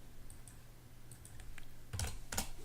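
A few computer keyboard keys are tapped to enter a value while animating a ball's squash-and-stretch bounce, scattered light clicks building to a tighter burst of taps near the end over a faint steady hum.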